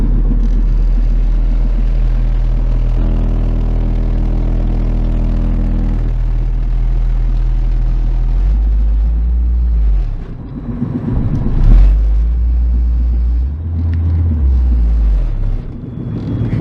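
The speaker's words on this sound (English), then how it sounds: "this is what the system in my Civic sounds like" Heavy sub-bass from a Honda Civic car audio system playing a steady 40.4 Hz tone, a loud continuous droning rumble that holds and shifts in level, with rattling vibration and no voices.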